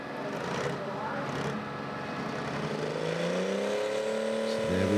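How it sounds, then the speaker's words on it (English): Tractor-pulling vehicle at an agricultural show, its engine droning steadily then climbing in a rising rev as it pulls, loud and continuous with a busy crowd ambience beneath. "That engine sounds so sweet and strong."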